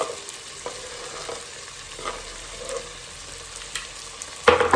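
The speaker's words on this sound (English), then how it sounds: "So we're going to put the olives in" Olives stirred into Moroccan chicken in a pan: a soft continuous sizzle with gentle stirring scrapes, ending in a louder clatter, close by and without speech.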